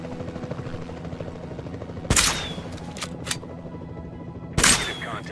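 Helicopter rotor chop from Jurassic World Evolution 2, a steady low rhythmic thrum running throughout, broken twice by sharp loud bursts like tranquilizer gunshots.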